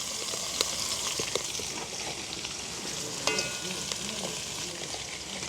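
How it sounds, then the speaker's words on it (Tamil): Sliced onions fry in boiling oil for sugar sambol, making a steady, close sizzle with occasional light clicks of stirring. "எண்ணெய் வந்து கொதிச்சிட்டுது. இப்போ நாங்கள் வெங்காயத்தை வதங்க விட போகிறோம்."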